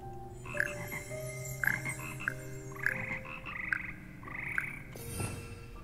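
Several frogs croak in the Hogwarts Legacy game world, a rhythmic sequence of six or so bright, rasping croaks roughly once a second over a humming ambient bed, clear and close with no voices.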